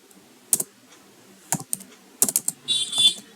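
Irregular bursts of clicky key presses on a computer keyboard while code is typed, close and clear with brief pauses between clusters.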